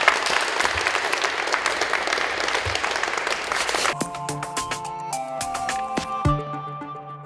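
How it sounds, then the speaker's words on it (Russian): Loud, dense audience applause fills the first four seconds at a televised boxing sports segment, then gives way to clattering, ringing tones as the clapping ends. "Давайте похлопаем."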